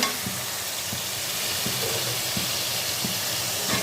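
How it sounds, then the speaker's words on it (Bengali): Washed mutton dropped into hot oil with cooked-down spices, a steady loud sizzle and hiss with soft stirring knocks throughout, close up and without talk. "এখানে আমি এর মধ্যে ধোয়া মাংসটা দিয়ে দেবো"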